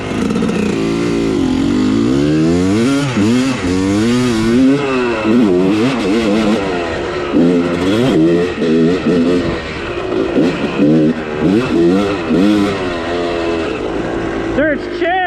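A motorcycle engine revs close by on a dirt outing, rising and falling repeatedly in a long, loud series of throttle blips with no quiet gaps.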